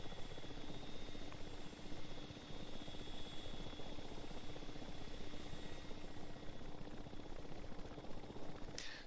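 Ka-50 coaxial-rotor helicopter flying slowly and climbing in the DCS World flight simulator, with a constant dense engine and rotor drone and a steady whine, unbroken and even in level before cutting off abruptly at the end.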